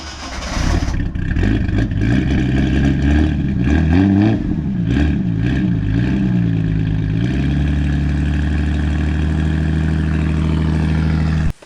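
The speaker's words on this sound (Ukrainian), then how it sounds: "він не сильно гучний цей вихлоп, але не сильно й тихий" Ford Granada engine fitted with a welded exhaust and resonator, revving steadily and loudly with rising and falling pitch before settling into a sustained, throaty drone, heard close up with no talking.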